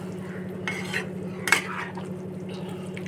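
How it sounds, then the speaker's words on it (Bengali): A sauce of tomato, soy and chilli being gently stirred in a pan for cauliflower manchurian, giving a few soft scrapes and light clinks of a utensil against the pan over a steady low kitchen hum. "আমি হালকা হাতে নাড়বো যাতে ঘাঁটা না হয়ে যায়"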